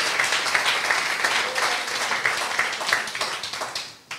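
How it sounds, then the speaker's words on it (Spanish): Church congregation applauding during a Spanish-language sermon on grace, a dense wash of clapping lasting several seconds and fading near the end, fairly close and loud. "Dale un aplauso."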